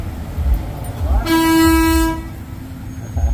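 A train horn blasts one sustained loud tone at close range over background rumble and scattered voices, lasting about a second before cutting off.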